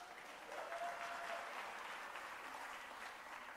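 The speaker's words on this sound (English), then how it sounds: "yeah, you can clap for that," Steady applause from a seated audience at a city State of the City address, a fairly faint, even roar of many hands clapping for a few seconds with no voices over it.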